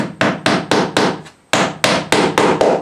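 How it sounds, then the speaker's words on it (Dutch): Small nails driven into wood with a little hammer while building a wooden toolbox, about nine sharp close strikes in two quick runs with a brief pause between. "kan dus die spijkertjes nu een stukje alvast inslaan"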